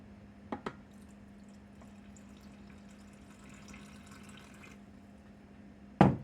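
Warm water for dough pours quietly for a few seconds over a steady low hum, with a couple of small clicks before and a louder knock at the end.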